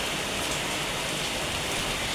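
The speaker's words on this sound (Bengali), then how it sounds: "অনেক জোরে আসছে বৃষ্টি, আরও জোরে আসতেছে" Heavy rain pours down steadily and loudly, a dense unbroken hiss filling the air like a storm, with no voices heard.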